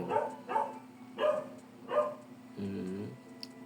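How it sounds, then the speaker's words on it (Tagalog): A dog barks outside in repeated bursts about every three-quarters of a second, then gives a longer, lower whine-like call, with a steady low hum underneath. "Maingay na yung aso sa labas."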